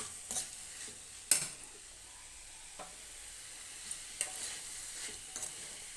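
Spices sauté in a tempering of hot oil for a bitter gourd gojju, a faint steady sizzle with a few soft clicks of stirring, no voices.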